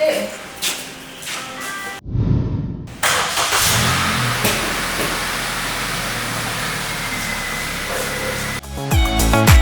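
A car is driven out through an open home gate, its engine running steadily and close, with a brief start-up surge and a change in tone near the end, while people talk over it.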